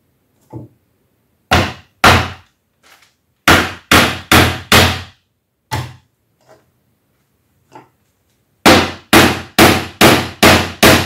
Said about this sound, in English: And for this, I need my hammer.